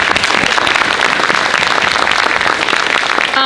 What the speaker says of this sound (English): Thank you to all of our speakers today. Thank you. Yeah, round of applause.